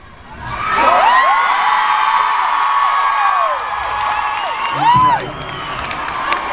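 A large arena crowd at a concert at the O2 Arena roars and cheers loudly, with whoops and shrieks swelling and dipping over several seconds.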